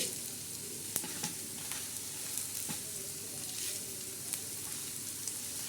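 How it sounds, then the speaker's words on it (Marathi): Onion and coriander seeds roast on a flat tawa for a black masala, crackling in a continuous sizzle broken by sharp pops and light scrapes at irregular moments. "आता आपण हे धणे टाकलेले आहे कांदा टाकला आणि धने टाकले"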